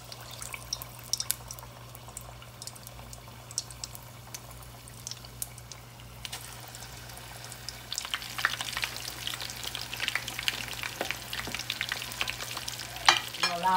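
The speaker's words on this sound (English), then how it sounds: "Allow them to fry until golden brown" Haitian-style meatballs frying in hot oil give a steady close sizzle with scattered pops and crackles that build louder and busier toward the end.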